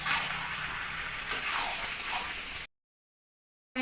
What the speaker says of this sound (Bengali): এবার কেটে মেখে রাখা মাংসটা দিয়ে দেবো। মাংস প্রায় কষানো হয়ে গেছে।